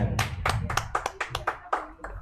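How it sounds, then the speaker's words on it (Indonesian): Audience clapping for a guest named Kang Ahmed at a film discussion event, a short burst of close, distinct hand claps in an uneven rhythm, about a dozen sharp slaps. "Kita tepuk tangan untuk Kang Ahmed"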